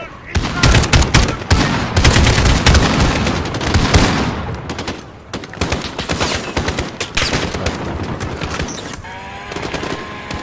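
Dense automatic and single gunfire from enemies in a Call of Duty Modern Warfare campaign firefight on Hardened difficulty, loud, close and nearly continuous with booming impacts, easing slightly midway then resuming in steady bursts.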